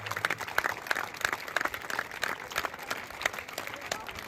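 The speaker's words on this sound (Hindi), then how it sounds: "ट्रॉफी लेते हुए बहुत ही जोरदार तालियों से अभिनंदन, स्वागत।" Applause from the audience at the trophy presentation closing a district-level kabaddi competition, a steady, moderately distant patter of many hands continuing throughout without any speech.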